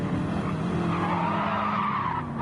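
Race car in a sim racing game braking very late at Barcelona, tires skidding and squealing against a steady engine roar, loud and continuous throughout.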